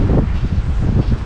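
Gusty wind buffets the microphone outdoors during a fly fishing outing, a steady low rumbling roar with uneven surges throughout.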